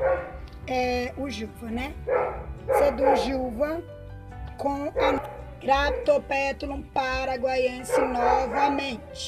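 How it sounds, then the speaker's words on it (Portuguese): A neighbor's dog barks and yelps in the background near a home garden while someone talks over it almost throughout. "Desculpem o cachorro do vizinho."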